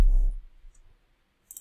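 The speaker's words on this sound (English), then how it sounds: "we're going to click the open button here." A single sharp computer mouse click, close and isolated, following a brief thump and low rumble at the start.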